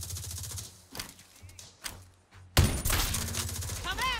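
Gunfire in The Division Resurgence mobile shooter game, with scattered shots followed by a loud, sudden burst of rapid firing near the end, and someone talking over it.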